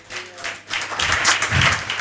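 A church congregation claps hands in thanksgiving, a short burst of brisk applause that swells loudly after a brief quieter start.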